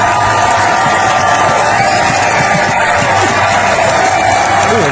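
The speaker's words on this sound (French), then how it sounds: "J'aimerais ça que vous applaudissiez aussi longtemps que ça vous tente" A studio audience at a French-language late-night aftershow claps, cheers and whoops loudly for Éric Duhem, producing a dense, continuous roar with shouted voices rising above it.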